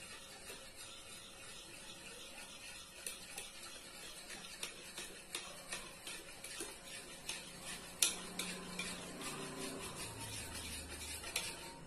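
A utensil stirs and scrapes through chocolate cake batter in a bowl, making faint, repeated rubbing and tapping strokes in a steady rhythm with no talking.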